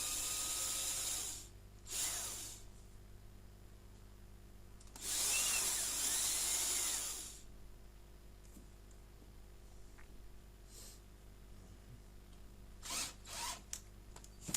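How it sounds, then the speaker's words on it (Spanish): An electric drill bores small pilot holes into a sander's base plate, coming in several short whirring bursts and one longer run, with quiet pauses between and no talking. "ahora procederemos a lo que es hacer los agujeros, para que la máquina pueda respirar y pueda coger todo el serrín"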